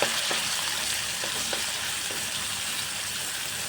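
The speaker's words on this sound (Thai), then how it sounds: "คั่วน้ำพริกจนหอมนะครับ" Chili paste stir-fries in hot oil for Thai nam prik ong. A constant, close frying sizzle runs throughout, broken by a few light stirring scrapes, with no speech.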